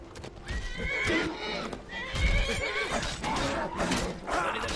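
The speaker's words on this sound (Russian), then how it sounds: "Эй, лошадь, ты сейчас себя убьешь." Horse in the video game Skyrim whinnying loudly several times, with clip-clop hoofbeats and game ambience running through the whole stretch.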